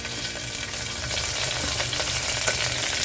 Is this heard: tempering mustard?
yes